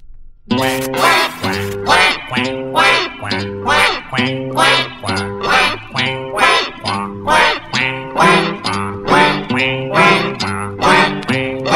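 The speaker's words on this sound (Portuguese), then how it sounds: "Lá vem o pato para ver o que que há" Cartoonish duck quacks from a 1980 Brazilian children's song about Noah's ark, arriving in a steady, loud, rhythmic series of repeated quacks over a musical backing throughout.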